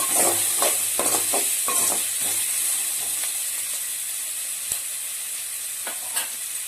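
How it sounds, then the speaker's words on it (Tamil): Vegetables for chicken fried rice sizzle steadily in a hot pan while a utensil stirs them, scraping and clinking in irregular strokes over the constant hiss, close up and with no talking. "லைட்டா இப்படி மிக்ஸ் பண்ணிட்டே இருங்க."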